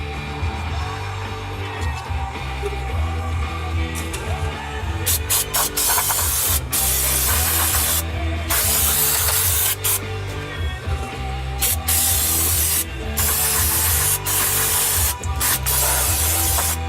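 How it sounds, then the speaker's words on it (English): Brake cleaner sprays in repeated hissing bursts onto wire-brushed parking brake parts of a 2007 Jeep Wrangler Rubicon, loud and close, with short pauses between blasts over a low mechanical rumble. "I'm going to spray some brake cleaner on it."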